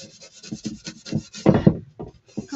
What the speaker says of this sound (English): I'm gonna try to go around and wipe some of that off.